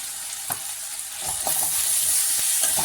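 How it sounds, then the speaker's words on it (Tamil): Vegetables for rava semiya kichadi stirred and sautéed in a pan, soft continuous sizzling with several scraping stir strokes of a spoon, close and alone without talk. "நல்லா கிளறி விட்டுட்டு அந்த காய் லேசாக வணங்குற வரை வணக்கி விட்டுக்கலாம்"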